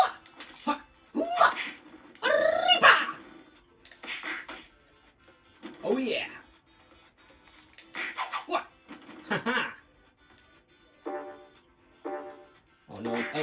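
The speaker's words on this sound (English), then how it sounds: "Prairie dogs." Prairie dogs in the video game Off the Rails give a run of short, sharp barking chirps in irregular bursts, fairly close and loud, with no talking over them.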